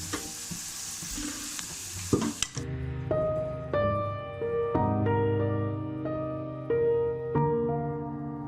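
Tadka of fried onion, cumin and red chilli poured into moong masoor dal, a loud sizzle that bursts, then settles into steady frying hiss with stirring and clinks of a pan.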